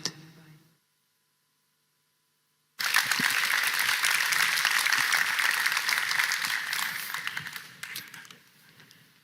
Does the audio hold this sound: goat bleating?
no